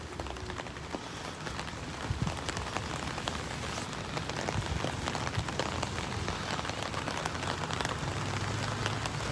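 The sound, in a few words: rain falling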